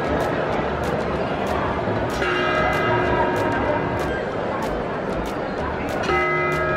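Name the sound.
clock tower bell striking the hour, St. Mark's Square, Venice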